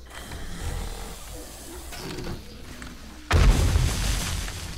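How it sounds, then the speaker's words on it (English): Barrel exploding in 7 Days to Die: a sudden heavy boom bursts in after a stretch of quieter game noise and faint voice, followed by a loud rumbling tail. "there was a barrel here and they destroyed the barrel"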